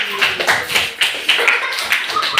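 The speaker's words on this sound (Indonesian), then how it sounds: "Tepuk tangan." Students in a classroom give a short burst of clapping, a few quick uneven rounds of hand claps lasting a couple of seconds, with a voice mixed in.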